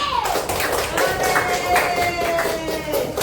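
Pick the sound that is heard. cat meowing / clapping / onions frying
clapping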